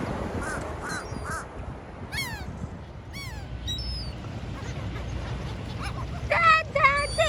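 Cartoon gulls at a beach picnic snatching cookies, a run of sharp squawking caws over soft surf-like noise, the calls clustering toward the end and rising louder.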